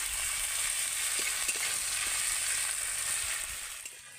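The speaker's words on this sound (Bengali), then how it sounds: "আবার আর কিছুক্ষণ একটু এইভাবে ভেজে নেব।" Onion and tomato fry in a pan with a continuous close sizzle, a few small stirring knocks and pops over it, and no voices.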